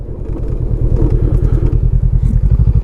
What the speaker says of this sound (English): again I shall pull the clutch in, roll a bit, and then back brake only